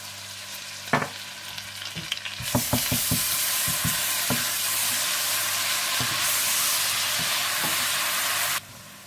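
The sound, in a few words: ginger and garlic frying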